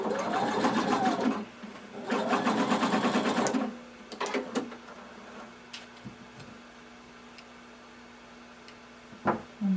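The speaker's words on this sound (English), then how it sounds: "we're going to stitch it down" A sewing machine stitches a strap down onto swimwear fabric in two steady bursts of running stitches, close and fairly loud, then falls quiet apart from a few light handling clicks and taps.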